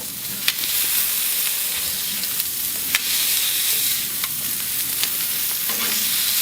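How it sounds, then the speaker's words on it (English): Smash burger patty sizzling loudly on a hot griddle, a dense continuous fry hiss up close with occasional sharp scrapes and taps of a metal spatula pressing it flat; no voices. "Get your spatula and just smash it."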